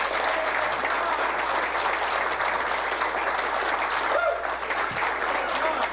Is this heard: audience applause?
yes